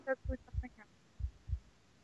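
A slow heartbeat in a horror video game thumps low and deep in two double pulses, close and heavy, with a voice talking over the opening beats.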